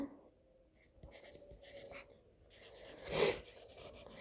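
Pen writing out a maths probability solution on paper, with soft, close scratching strokes and taps coming in short bursts and one louder scrape near the end.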